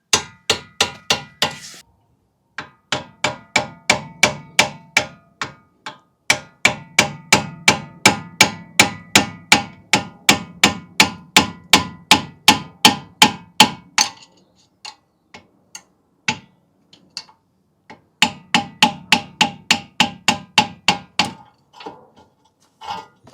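Repeated sharp metallic hammer blows on a seized rear brake of a Mk2 Volkswagen Golf, in rapid bursts, struck loud and close, with brief pauses between runs of strikes.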